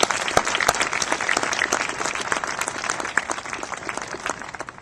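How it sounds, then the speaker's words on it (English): Audience applause at a university graduation ceremony, a large crowd clapping steadily with distinct sharp individual claps on top, gradually easing toward the end. "First, a round of applause for Dr. Bob Tomlinson"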